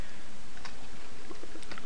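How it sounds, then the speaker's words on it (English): Java code is typed on a computer keyboard, a quick run of light, irregular key clicks close to the microphone over a steady background hum. "I'll tell you what I'm typing right now"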